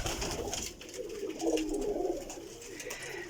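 Pigeons, including golden diamond and white birds in a breeder's loft, coo softly nearby in low throaty rolling calls, with faint background noise and no talking.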